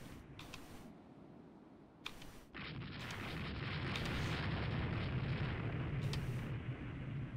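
Torpedo hits on a destroyer force in the Rule the Waves 2 naval game, heard as sharp impact cracks followed by a swelling, sustained booming rumble of explosions.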